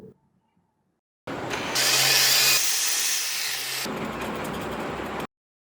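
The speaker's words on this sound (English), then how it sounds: "Marking the points to be drilled." An electric drill bores mounting holes for a metal helmet hanger, one steady loud whirring run of about four seconds that shifts pitch midway as the bit bites, heard alone after near silence.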